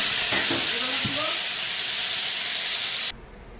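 Potatoes frying in hot oil after cauliflower, a steady loud hiss and sizzle that carries on evenly and then cuts off abruptly near the end, with a few faint clinks of stirring.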